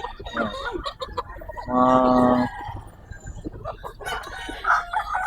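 A Kelso rooster at a market crows once loudly and close, with clucks and scattered voices around it and people talking nearby.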